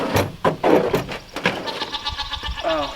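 Goats bleat on a farm, several wavering cries rising over a busy outdoor background, with a closer harmonic bleat near the end.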